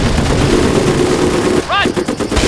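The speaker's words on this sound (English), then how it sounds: "Heavy enemy fire on our position!" Rifle and machine-gun fire in the World War II strategy game Company of Heroes, a loud, dense burst of rapid shots followed by a few sharper cracks and ringing tones.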